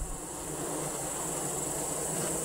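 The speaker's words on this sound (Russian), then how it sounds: "вот пчелки вентилируют" Honeybees fanning at a hive entrance on an apiary produce a dense, steady buzzing hum, close and moderately loud, with no voices over it.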